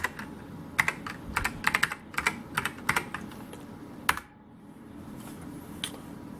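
Typing on a white SolidTek ASK-6600C mechanical keyboard with ALPS switches, sharp close key clicks in quick irregular runs, then a pause and a few scattered strokes over faint room hiss.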